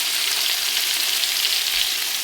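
Eggs and potatoes fry together in very hot oil, giving a steady, close, bright sizzle with no voices.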